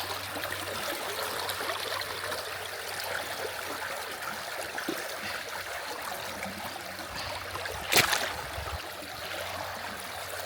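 River water flows over rocks in a steady, close rush that fills the whole stretch, broken by a brief knock or splash near the end.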